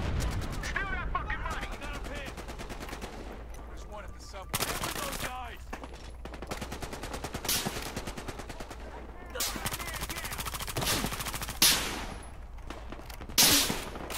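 Gunfire in the shooter game Battlefield Hardline, with sharp sniper cracks and bursts of rapid fire spread across the scene, several loud close reports standing out, while a player talks over it.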